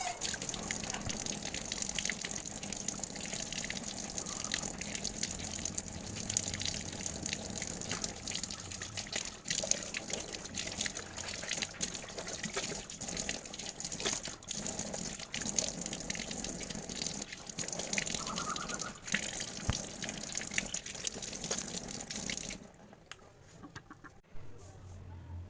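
Tap water running steadily into a basin in a home bathroom during tooth brushing, a continuous gushing wash with light splashes that cuts off near the end.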